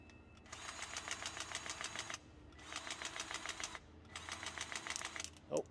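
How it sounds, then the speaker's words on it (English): Three bursts of rapid mechanical clicking and rattling, each about a second and a half long, as a grease gun pumps grease into the kingpins of a Scania truck, close and moderately loud with short gaps between strokes. "Oh, I hear grease popping"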